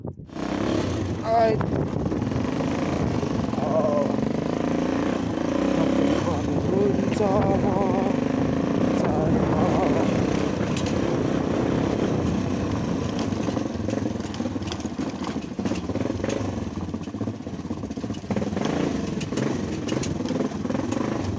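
A motorcycle rides through the narrow lanes of Syang village in Mustang, its engine droning steadily and close throughout while people talk over it.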